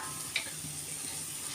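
Mustard paste frying in a pan for a small-fish charchari, giving a soft, steady sizzle that stays faint throughout with one brief clink near the start.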